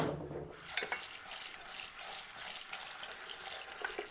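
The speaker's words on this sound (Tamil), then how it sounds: "பாரு சோயாபீன் இது வாஷ் பண்ணி அப்போதான் பாயில் பண்ணணும்." Soya chunks are washed in a basin of running water, with a steady splashing and sloshing stream and occasional clinks against the bowl, close and continuous with no talking.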